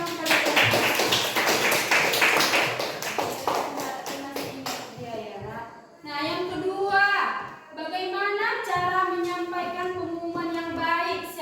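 A fourth-grade class claps hands in quick, close bursts for several seconds and then falls quiet as a teacher's voice takes over.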